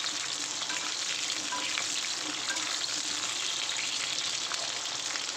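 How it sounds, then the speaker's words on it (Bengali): Pieces of pointed gourd (potol) frying in hot oil, with a steady, even sizzle that runs the whole time and small crackles and pops scattered through it. "আগে পটলগুলো ভেজে নিই, তারপরে আলুগুলো ভাজবো।"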